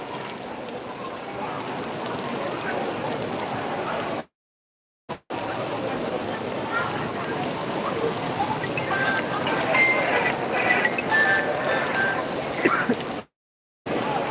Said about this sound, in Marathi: मोठ्या प्रमाणात पावसानं हजेरी लावलेली आहे